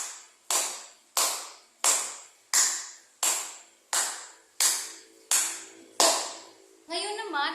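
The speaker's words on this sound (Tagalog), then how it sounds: "Bigyan ng 10 palakpak ang unang pangkat." A class applauds its first group with a steady, evenly spaced series of nine or ten sharp, ringing claps, one roughly every two-thirds of a second, followed by a voice speaking.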